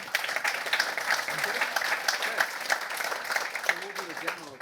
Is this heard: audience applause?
yes